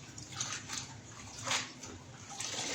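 Gerger salad greens being rinsed by hand in water, giving a soft, continuous sloshing and splashing that swells and fades, fairly quiet and with no talking.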